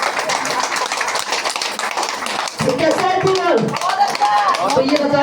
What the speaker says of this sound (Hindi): अब तो ताली बजा लो,